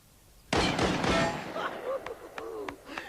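A gunshot rings out in a horror film, a loud sudden blast with a rolling echo, followed by a few sharper clicks and clanks of handling the weapon.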